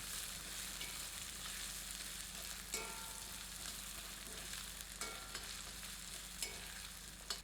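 Onions sizzle in a pan for paya (goat trotter) soup, a steady broadband frying hiss with occasional soft stirring scrapes and small pops, fairly quiet and continuous with no voices.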